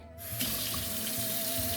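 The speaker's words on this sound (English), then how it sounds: "So how to wash them is you just turn on your sink" Water pours steadily from a kitchen sink tap as blueberries are rinsed, a continuous close hiss and splash with no talking.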